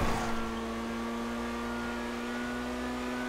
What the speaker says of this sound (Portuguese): Esse carro é muito rápido